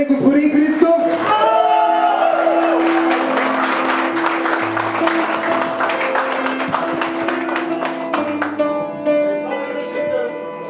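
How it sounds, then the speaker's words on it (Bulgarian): Applause for the bride at a wedding ceremony: a crowd claps steadily and loudly for about eight seconds, with cheers and a sustained musical tone underneath, then it tapers off. "Малко аплодисменти за най-красивата булка ще има ли?"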